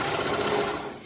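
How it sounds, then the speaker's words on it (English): A serger overlocks the side seams of a satin top in one brief, close, rapid mechanical whirr that fades slightly at the end. "I am in the process of serging."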